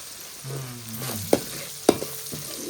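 Whole cumin seeds sizzle in hot oil in a pan while being stirred for a crab curry, a soft frying hiss broken by a few sharp scraping and clinking stirs, close and without talk.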